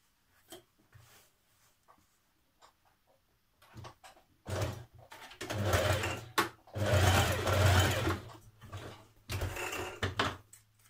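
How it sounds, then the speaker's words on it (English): Sewing machine stitching around a jeans pocket along the seam allowance, quiet at first with brief taps, then loud sustained whirring bursts of stitching with short pauses between runs, close by and alone. "You can continue stitching in your seam allowance all the way around the pocket if you wish."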